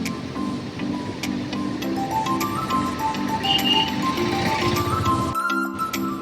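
Brown floodwater rushes in a steady, loud roar through an opened barrage gate after heavy rainfall, with a brief voice near the end.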